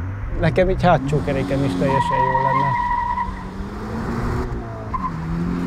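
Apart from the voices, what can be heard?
Subaru BRZ tires skidding, wheel slipping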